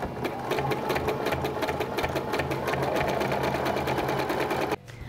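A sewing machine top-stitches a hair weft in a fast, steady mechanical rattle of needle strokes that runs loud and close for several seconds, then cuts off abruptly.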